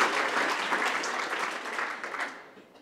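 A crowd claps steadily in a burst of applause at a university oration, fading out after a few seconds.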